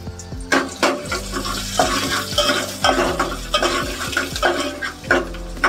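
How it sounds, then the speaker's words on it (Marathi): Chopped onion added to hot oil for tempering in a pot, while preparing a jackfruit seed and shrimp vegetable dish, with a soft frying hiss under repeated loud scraping and clanking of a spoon against the pot. "आता थोडा हा कांदा ठेवला आहे फोडणीसाठी तो घालते"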